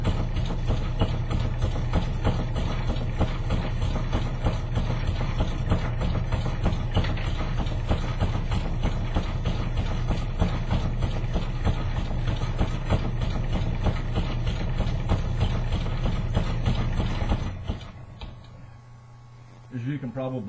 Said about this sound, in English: I'll fire the machine up right now to let you see the action.